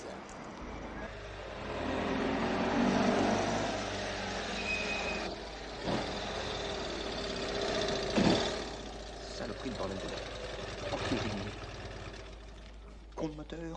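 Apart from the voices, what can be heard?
sputtering broken car engine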